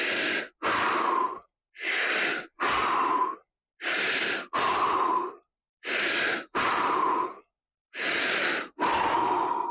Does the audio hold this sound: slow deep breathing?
yes